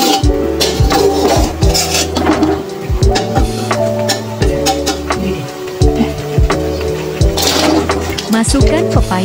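Young papaya curry, sayur gulai pepaya muda, is stirred in a pot after grated papaya goes in, a metal utensil scraping and clinking against the pan in steady, busy rhythm, loud and close.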